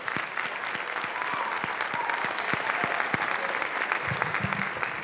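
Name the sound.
audience applause at a memorial band concert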